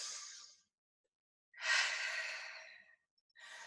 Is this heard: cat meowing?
no